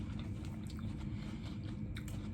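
Crispy roast apple is bitten and chewed close up, a soft run of crunching and moist chewing sounds at low level with no talk.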